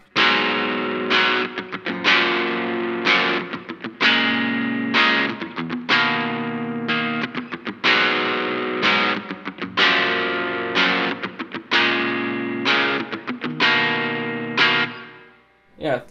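An electric guitar with overdrive strums emo-style chords in a repeating pattern of ringing strums, each decaying before the next, loud and close with no talk.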